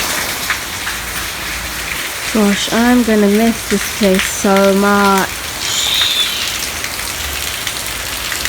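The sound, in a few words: rain falling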